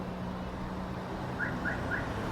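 Three short, faint electronic beeps in an even rhythm from a Toyota Hilux Champ with an aftermarket remote push-start system, heard outdoors over steady low background noise.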